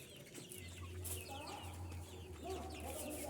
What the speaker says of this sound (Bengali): কালারবার্ড মুরগি।